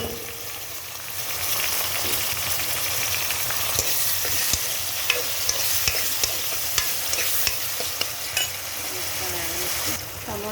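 Tomatoes frying in a pan for a fish curry, a soft steady sizzle with stirring scrapes and a few light metallic clinks of a spoon against the pan.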